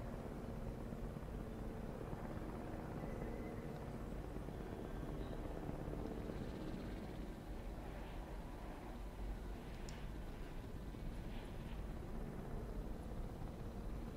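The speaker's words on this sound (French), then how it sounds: "il est où notre hélico qui vient l'endormir?" A helicopter arriving in the Jurassic World Evolution video game gives a steady, loud rotor and engine drone that holds unchanged throughout, with no speech over it.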